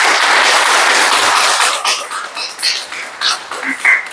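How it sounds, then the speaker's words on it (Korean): A church congregation applauds in welcome, with dense clapping for about two seconds that then thins into scattered, uneven claps. "우리 일어나서 인사하실 때 환영의 박수 쳐주시기 바랍니다"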